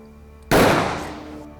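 A single loud gunshot blasts out after a short quiet lead-in, its sharp crack decaying into a lingering reverberant tail, staged as a killing in a crime drama.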